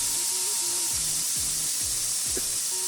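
A sirloin tip roast, cooked sous vide, sears in a hot pan with a steady, loud, close sizzle and hiss. Faint low thumps sound underneath.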